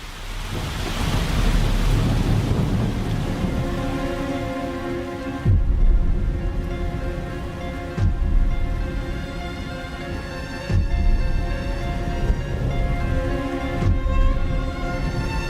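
Heavy rain pours steadily during flooding, with loud broadband hiss throughout and several sudden thunder cracks or booms punctuating it, no speech.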